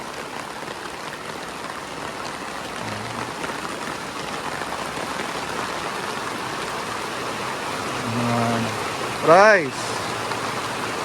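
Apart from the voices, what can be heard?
heavy rain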